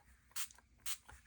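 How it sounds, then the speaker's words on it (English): Water from a small spray bottle goes out in two short, quiet spritzes, about half a second apart, against a soft background. "I'm just going to spray water into it"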